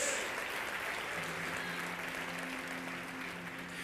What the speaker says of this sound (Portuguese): Se é para aplaudir, aplauda glorificando a Deus.